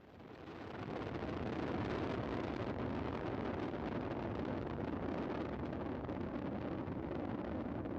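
A Soyuz rocket with four boosters and a single core engine climbing after launch, a steady, broad, rumbling roar that swells in the first second and then holds loud and constant, with no voices.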